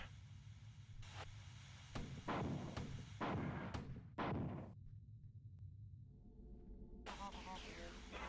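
A rocket launcher in the Marathon shooter game: several heavy booming blasts in quick succession, each with a rumbling tail, followed by a sudden drop to near silence and then a low-level tonal chirping, with a voice speaking briefly.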